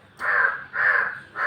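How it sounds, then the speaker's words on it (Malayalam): Three loud, harsh crow caws in steady succession, each drawn out for about half a second with short gaps between, close by and with no other sounds. "വീഡിയോ എടുക്കാൻ സമ്മതിക്കില്ല കുശുമ്പ് പെരുത്ത കാക്കകൾ"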